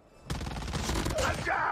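Rapid gunfire bursts from the mobile shooter game Call of Duty Mobile, using an akimbo Fennec loadout, rattling loudly and continuously after a sudden start.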